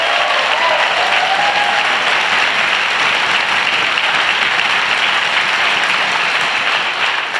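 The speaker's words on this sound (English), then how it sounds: "Could we have a round of applause for them?" An outdoor democracy rally crowd gives a loud, steady round of applause, dense clapping sustained from start to finish with no talk over it.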